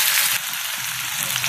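Garlic, green chillies and onion sizzle and crackle in very hot oil in a pan, a steady dense frying hiss close up that eases slightly partway through, with no talking.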